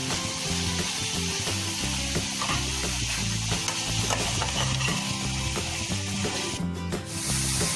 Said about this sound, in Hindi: अब इसमें हम कस्तूरी मेथी डालेंगे, इसको मिक्स कर लेंगे और इसको कुक कर लेंगे।